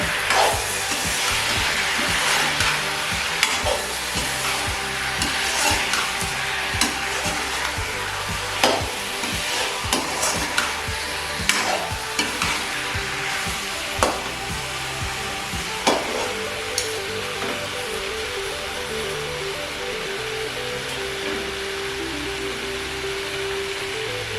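Jackfruit curry frying in a pan while being stirred, a continuous close hiss of sizzling oil broken by repeated sharp clinks and scrapes of the spoon against the pan, no talking.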